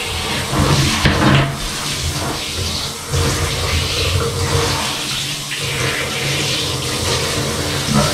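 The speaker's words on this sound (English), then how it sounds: "I should turn this water off for her." A garden hose runs steadily during a Jack Russell Terrier's bath, a loud continuous hiss and splash of water with small clatters mixed in and no talking.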